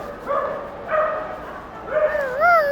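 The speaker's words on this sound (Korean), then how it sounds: "아 멍멍이 있어" A dog near a baseball stadium gives several high, whiny yips and whimpering barks, three short bursts, the last drawn out and wavering. The sounds are close and fairly loud with no speech over them.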